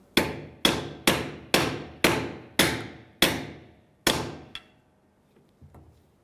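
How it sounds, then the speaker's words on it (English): A hammer strikes metal eight times in a steady rhythm, tapping a pin into a parking brake arm on a 2007-2013 Acura MDX; each blow rings sharply and close, followed by a faint clink near the end. "give it a couple of taps with the hammer."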